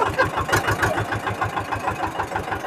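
An Eicher 312 tractor diesel engine fitted with a new exhaust runs close by on an early morning ride, giving a loud, rapid, even chugging pulse that throbs steadily throughout.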